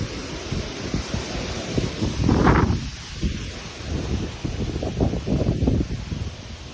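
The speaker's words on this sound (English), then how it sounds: "It is super windy outside." Strong gusty wind ahead of a storm in Lancaster, Ohio, buffeting the microphone in loud rumbling bursts with rustling leaves, rising and falling unevenly outdoors.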